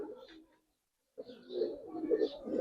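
Young Giribaz pigeons coo softly nearby in low, throaty murmurs. There are two short bouts separated by a brief silence, and the second bout is longer and more insistent.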